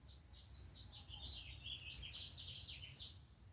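Birds chirp faintly in the distance, a thin string of high tweets running steadily over a quiet background hum.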